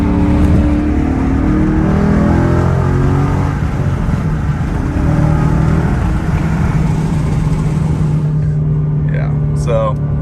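A 2015 Mustang GT with a Ford Performance sport exhaust accelerates hard in third gear, a loud, steady engine roar rising throughout, cutting off near the end as a voice briefly speaks.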